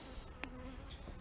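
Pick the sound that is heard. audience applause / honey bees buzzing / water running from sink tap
honey bees buzzing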